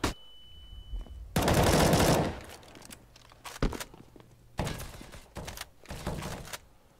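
Bursts of automatic gunfire in Counter-Strike: Global Offensive fired while running, a loud sustained spray followed by several shorter volleys and isolated shots, with footsteps thudding between them.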